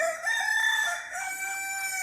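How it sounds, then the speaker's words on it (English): A rare chicken with a black comb gives a loud, close crowing call, one sustained harmonic cry that wavers slightly over about two seconds, with no talking. "This hen here is quite a rare one because it's got like a black comb"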